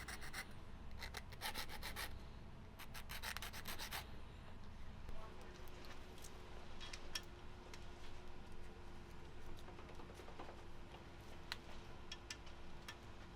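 Hand file cutting a chamfer along the edge of a metal engine part during a 396 engine assembly, quiet rasping strokes, faster and denser for the first few seconds, then sparser scrapes over low shop background.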